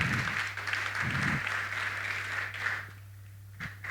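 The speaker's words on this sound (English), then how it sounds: "A round of applause for her" Applause from a conference audience at an academic event, broad steady clapping that fades out toward the end, with a low hum underneath.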